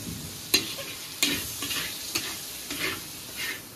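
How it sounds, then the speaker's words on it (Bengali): A spice paste of ginger and tomatoes frying while being stirred, a gentle continuous sizzle broken by several sharp scrapes of a spoon against the pan, close and quiet with no talking. "মশলাটাকে আগে ভালো মতন ভেজে নেব, আদার গন্ধটা চলে যাওয়া পর্যন্ত"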